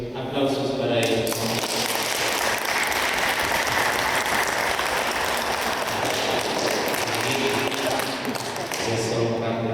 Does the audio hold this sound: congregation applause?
yes